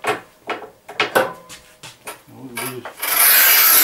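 Rubi manual tile cutter scoring 10 mm glossy porcelain tile: a series of short rasping strokes followed by a louder, longer scrape, close up, with brief speech in between.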